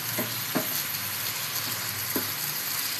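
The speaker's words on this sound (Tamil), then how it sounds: "எண்ணெயிலே பொரிப்போம்." Prawns for a crispy Tamil prawn varuval frying in hot oil make a dense, steady sizzle close by, with a few soft stirring knocks breaking through.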